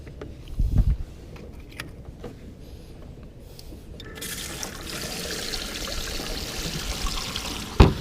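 Water pours and trickles through a homemade livewell in a jonboat, a soft steady splashing flow that grows fuller in the second half, with a few thumps and a knock near the start and end.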